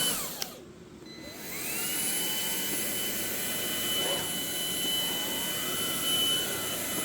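Kobalt 24V cordless stick vacuum cleaner spinning back up to full speed on carpet, a steady whine of the motor rising and holding loud and close after a brief dip, with no talking.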